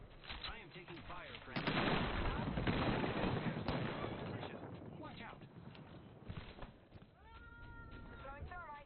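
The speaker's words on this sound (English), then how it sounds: "I am taking fire" Gunfire in an Apex Legends-style shooter match with a Pathfinder nearby, bursts of rapid shots loud and close from about 1.5 to 4 seconds, then scattered quieter shots, with a voice talking over parts of it.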